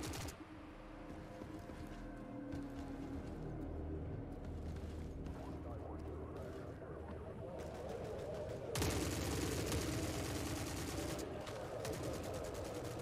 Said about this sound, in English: What is shooting at you guys?